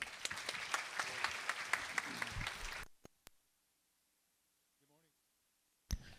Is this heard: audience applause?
yes